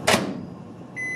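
A microwave oven timer is set for popcorn: a quick clunk of the door or panel, then a short steady electronic beep at the end, close and alone.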